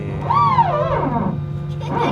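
A short mechanical whine rises, dips and falls away in pitch over about a second, then briefly returns: an airliner's hydraulic equalization sound after engine start, on a Hanoi to Bangkok flight.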